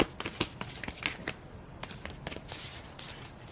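A deck of tarot cards is shuffled by hand in a run of quick riffling bursts and soft slaps, close and fairly quiet, pausing briefly mid-way before resuming.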